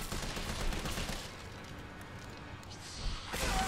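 Gunshots and a scattered volley of fire in Resident Evil 3, fairly quiet and muffled, easing in the middle before swelling again at the end.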